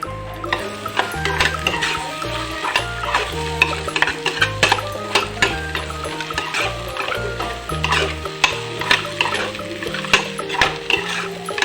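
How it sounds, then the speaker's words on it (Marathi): Ground peanuts being stirred and roasted in a pan for a chutney, continuous rapid scraping and clacking of the spoon against the metal with a soft sizzle, close and busy throughout. "आता यामध्ये मी शेंगदाण्याचं बारीक केलेलं सुद्धा टाकून घेणार आहे आणि आता हे मी चांगल्या प्रकारे परतून सुद्धा घेणार आहे"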